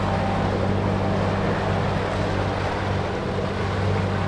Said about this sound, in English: Start the engine and see if we don't have to replace the impeller